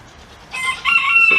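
A chicken in a pen gives a short, loud, close cluck-like call, rising abruptly after a brief quiet moment.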